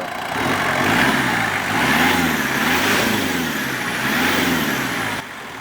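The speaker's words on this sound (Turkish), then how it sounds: "Araca marş yaptık. Seste herhangi bir sıkıntı yok." A Ford Ranger 2.2 pickup engine runs steadily after starting, a loud, close, even idle with slight rhythmic pulsing that settles briefly at the end.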